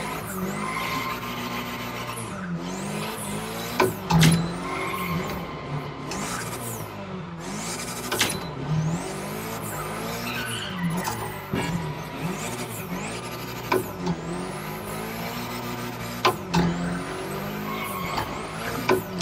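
A car drifts in The Crew Motorfest, its tires squealing repeatedly in sweeping, rising and falling screeches over a steady engine drone, with occasional louder bumps.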